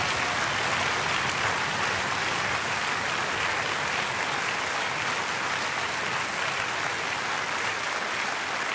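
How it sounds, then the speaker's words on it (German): Sustained audience applause for a finalist on a Swiss folk-music TV talent show, a dense, steady wash of clapping hands filling the whole stretch at even loudness with no talk over it. "Zuerst musst du jetzt aber den Applaus geniessen"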